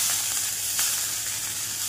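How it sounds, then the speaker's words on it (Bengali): Chopped data (stem amaranth) greens hit a hot, dry wok with a steady, close hiss and sizzle that holds for the whole stretch, with a slight stirring rustle and no voices. "কড়াই বসিয়ে দিয়েছি, এখন দিয়ে দেবো এই শাক কুচি করা"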